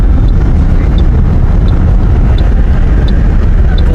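Car driving on a motorway toward Lahore in heavy fog, heard as a loud, steady road and engine roar inside the vehicle, constant throughout with faint rhythmic ticking.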